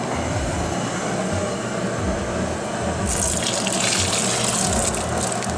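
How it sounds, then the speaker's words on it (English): Liquid pours steadily back into a brew pot during all-grain beer brewing, a continuous gushing splash that brightens midway, close by and without talking. "so we're gonna pour that back on top"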